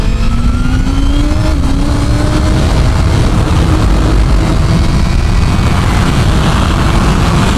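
A 2025 Honda CBR1000RR-R Fireblade engine roaring at high revs while riding, loud and close with rising pitch and heavy wind rush, no talk.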